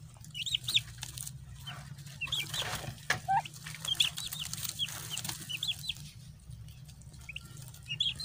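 A turkey hen with her sixteen chicks on a small Nigerian turkey farm: repeated soft clucks and high chick peeps come in scattered bursts over a constant low hum, fairly close.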